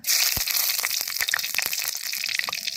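Four dried red chillies crackle in hot oil in a kadai, with a little more oil added after frying bitter gourd. A steady, close, bright sizzling hiss runs throughout, broken by frequent sharp pops and spits, with no talking.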